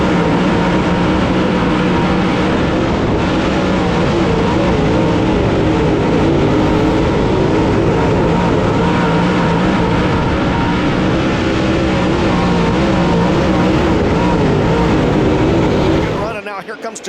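Dirt late model race cars pound around Eldora Speedway in a green-flag heat race, a loud, dense engine roar that holds steady for the whole stretch while an announcer calls the action over it, then cuts off abruptly.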